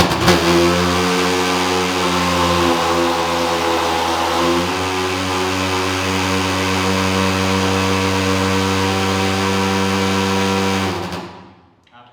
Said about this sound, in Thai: ดี๋ยวจะลองติด เครื่องกันเลยนะครับ ทำการติดเครื่องนะครับ